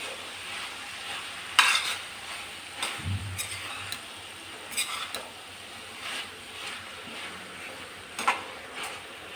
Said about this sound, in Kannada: ಈಗ ಇದನ್ನು ಹಾಕಿದ್ಮೇಲೆ ಚೆನ್ನಾಗಿ ಮಸಾಲ ಇದಕ್ಕೆ ಮಿಕ್ಸ್ ಆಗೋ ಥರ ಹುರಿಬೇಕು.